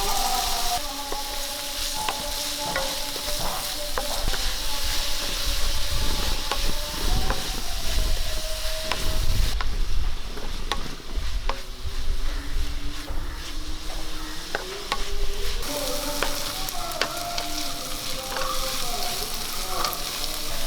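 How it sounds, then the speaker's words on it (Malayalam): Soya chunk curry base with curry leaves and salt sautéing in a pan, a steady close sizzle with scraping stirs and occasional clinks of a utensil, no one speaking. "ശകലം ഉപ്പ് ഇട്ട് കൊടുക്കാം എന്നിട്ട് നല്ലപോലെ ഒന്ന് വഴറ്റാം"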